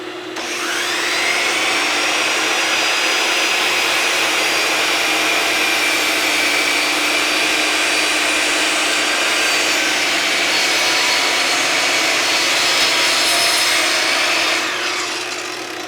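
A chop saw cuts steadily through wood for about fifteen seconds with a dust collection vacuum running, giving a loud, continuous whine that holds even from start to finish.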